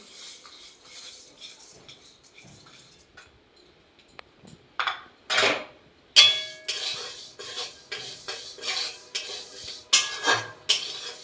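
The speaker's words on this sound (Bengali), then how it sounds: "এবার আমি ডালগুলো ভালো করে একটু নাড়াচাড়া করে ভেজে নেব" A metal spoon stirs 150 grams of dal frying in a pan, giving loud scraping and clanking strokes in uneven bursts that get stronger after a quieter start, with no talking.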